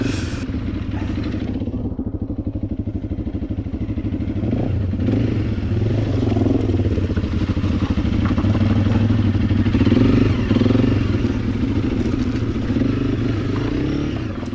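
A Suzuki DRZ motorcycle crosses the Mackerly River, its mid-pitched engine droning loudly and steadily while clattering and splashing churn underneath for the whole stretch, with no talk.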